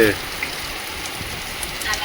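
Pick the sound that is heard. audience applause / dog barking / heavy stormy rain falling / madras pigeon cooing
heavy stormy rain falling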